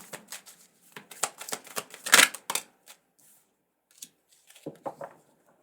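Tarot cards are shuffled close up in quick, crisp riffling bursts, followed by a pause and a few softer card flicks and slides as single cards are drawn, with no talking.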